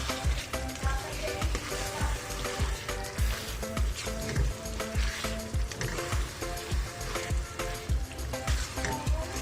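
Chicken keema with peas and potatoes sizzles steadily on a high flame, a dense continuous frying crackle with regular scraping stir strokes throughout, close and fairly loud.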